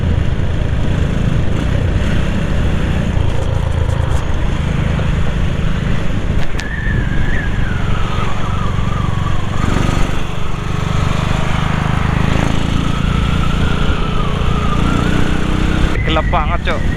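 A motorcycle ridden at night on a dark touring road runs continuously, its engine droning loud and close throughout, with wind and road noise mixed in and a rider's voice faintly audible at times.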